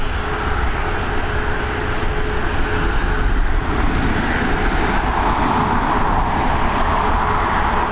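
Aer Lingus flight EI470 roars off Dublin Airport runway 28L bound for Split, a loud, steady jet engine rumble close by holding for several seconds with no talking.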